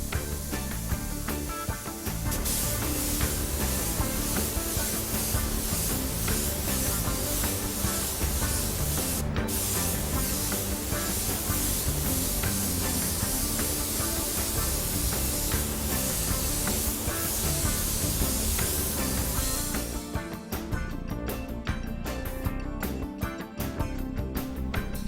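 A spray gun sprays waterbased paint at 1.5 bar over a spot repair area, giving a loud, steady hiss that runs almost without a break and changes slightly near the end.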